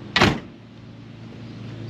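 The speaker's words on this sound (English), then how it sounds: "See how the doors close." Door of a 1981 Pontiac Trans Am swinging shut, one solid near thump with a short rattle, then quiet cabin hum.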